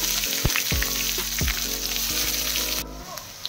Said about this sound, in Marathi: आता मी त्याच्यामध्ये कांदा टाकते।